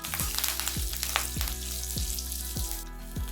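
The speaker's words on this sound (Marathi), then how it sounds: "ढोकळ्यासाठी फोडणी करते." Cumin, chopped green chilli and curry leaves sizzling in hot oil as a tempering for fasting dhokla, a steady crackling fry with regular clanks of a spoon stirring the pan.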